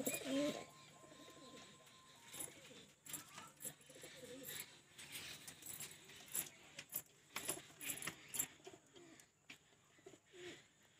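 Dobaj pigeons of the Sylheti light-coloured type, kept as tournament flying birds, coo faintly amid a busy loft with scattered clinks and rustles, intermittent soft calls rising and falling over background noise.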